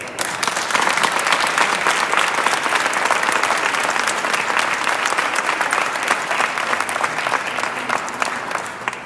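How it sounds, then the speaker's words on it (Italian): Dense, steady audience applause at an exhibition in Padua, sustained and loud throughout with no talk over it. "qui ci vuole un applauso"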